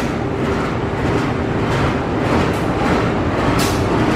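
A Tokyo Metro 5017 series electric commuter train, an old unit on its final run toward Pasir Bungur near Bogor, rumbles steadily with continuous broadband running noise and a faint tonal hum, loud and close throughout.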